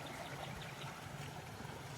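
Faint, steady trickling and burbling of spring water flowing on the rice terraces of Buscalan, Philippines, continuous and quiet, with no voices over it.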